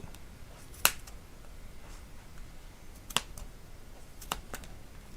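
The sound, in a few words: scissors cutting yarn wrapped around a pom-pom ring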